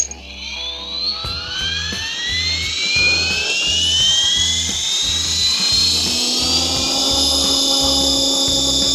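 A Tarot 450 RC helicopter flown without its canopy spins up, its rotor whine climbing steadily in pitch over a steady pulsing chop, then holding at a loud, close, sustained drone with no voices.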